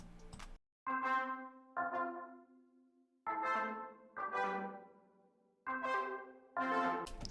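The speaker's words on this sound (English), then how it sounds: "I added some chords here." Layered Serum synth chords from a hyperpop remix, sounding as six sustained chord hits in an even, spaced rhythm with short gaps between them, bright and clear with no voices.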